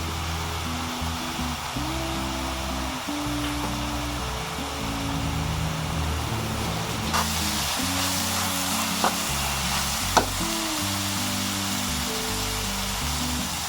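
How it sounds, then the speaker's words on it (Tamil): Onions sauté with rock salt in a pan for a South Indian egg pepper gravy, a steady close sizzle running throughout with a few faint clinks of stirring. "வெங்காயம் நல்லா வதங்கணும்"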